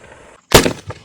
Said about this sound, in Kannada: ಬಂದೂಕ್ ಚಲಾಯಿಸಿದ ತಕ್ಷಣ ಕಿವಿ ಹಂಗೆ ಕಿತ್ತೋಯ್ತು